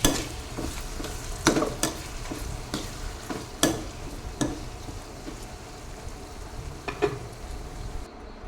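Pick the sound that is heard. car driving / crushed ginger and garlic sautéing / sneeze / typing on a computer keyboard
crushed ginger and garlic sautéing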